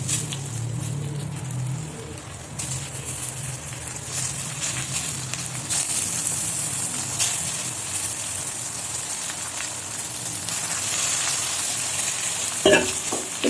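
Eggplant and chili frying in hot oil in a wok, a steady bright sizzle with occasional crackles and stirring scrapes, close and continuous.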